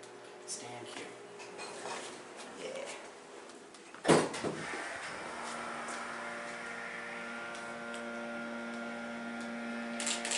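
A Montgomery hydraulic elevator motor at a department store starts with a sharp thump, then runs as a steady hum with an even whine that holds for several seconds. Brief talk comes before the start.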